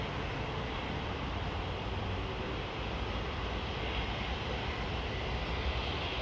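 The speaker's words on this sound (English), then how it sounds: "There's a good looking jetliner right there" A jetliner at London Heathrow Airport, heard as a steady, broad roar of engine noise without any clear rise or fall, distant and washed out.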